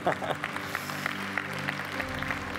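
A church congregation claps in a steady rhythm, loud and continuous, with voices mixed in.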